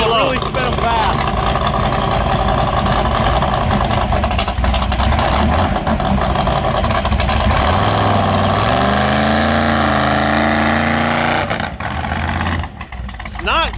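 Car engine revving hard in a burnout attempt, wheels spinning fast, loud and close throughout with a rising pitch sweep, while people talk over it.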